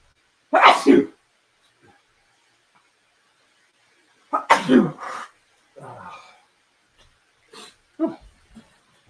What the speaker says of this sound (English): I'm about to sneeze, too, because I'm looking at the light.